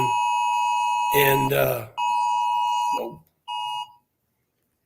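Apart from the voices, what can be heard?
phone emergency alert beeping, Amber Alert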